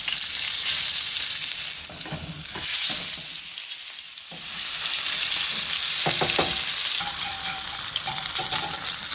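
Shallots with peppercorns and bay leaf sizzle in a hot pan, a loud continuous hiss broken by stirring scrapes and a brief lull partway through.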